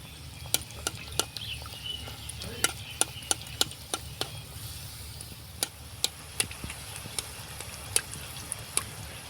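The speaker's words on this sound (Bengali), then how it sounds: "এবার দেখুন চামচের সাহায্যে এইভাবে করে একটু তেলটা ছড়িয়ে দিতে হবে" Gaja dough fries quietly in hot oil while a spoon spreads the oil over it. A soft, steady sizzle runs underneath, broken by sharp, irregular clicks and taps from the spoon against the pan.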